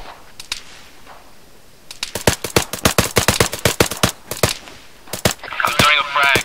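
Rapid bursts of gunfire in a military video game set at Tora Bora in 2001, loud sharp cracks in quick irregular succession, with voices heard briefly near the end.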